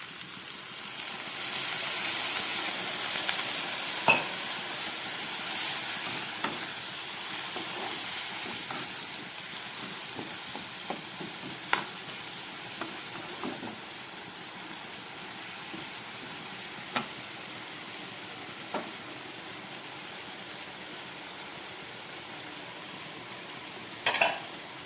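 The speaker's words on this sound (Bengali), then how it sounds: "তরকারিটা ফুটছে" Ash gourd and prawn curry simmers in a pan after a little water is added, giving a soft continuous bubbling sizzle with occasional sharp clinks of a utensil against the pot.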